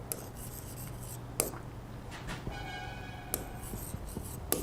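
Writing on a board, heard as scratchy strokes and rubbing of varying length over a steady low hum, with a few sharper taps and no voice over them.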